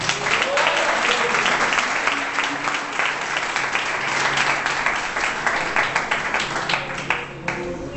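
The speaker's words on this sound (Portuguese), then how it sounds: "Se você feliz, aplauda Jesus aí." A church congregation breaks into sustained, dense applause, steady and loud throughout, with a few voices faintly audible beneath the clapping near the end.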